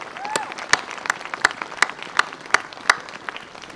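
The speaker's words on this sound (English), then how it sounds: "So can you give them a huge round of applause?" An audience at a winter solstice gathering breaks into sustained applause, a dense wash of clapping with sharper individual claps standing out throughout.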